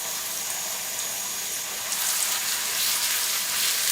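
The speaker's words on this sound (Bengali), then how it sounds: "আদা ও রসুন বাটাটাকে একটু ভেজে নিলাম।" Ginger and garlic paste frying in hot oil for beef bhuna gives a steady, even sizzle that swells slightly louder partway through, with no talk.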